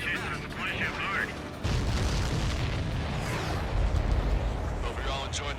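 Explosions in the Ace Combat 7 flight combat game rumble as deep, heavy booms that swell and roll continuously under radio chatter from other pilots.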